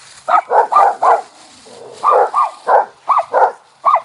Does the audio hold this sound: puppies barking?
yes